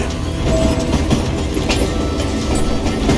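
A train runs steadily in the Western video game Call of Juarez Gunslinger, a loud, continuous rumble with rattling, clanking mechanical clicks throughout.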